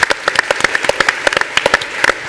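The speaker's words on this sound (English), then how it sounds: "President Moe Veissi, let's give him a big round of applause" Sparse, uneven clapping from a small audience at a real estate brokers' panel event, individual claps distinct and fairly close, no talk.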